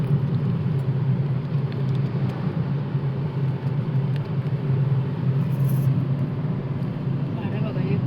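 Steady low traffic rumble from cars on a road, a continuous broadband drone with no distinct single pass standing out, moderately loud throughout.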